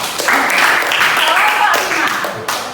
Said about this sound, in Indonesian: Boleh kasih tepuk tangan untuk kelompok 3?